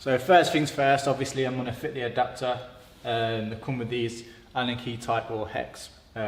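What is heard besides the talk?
No everyday noises stand out.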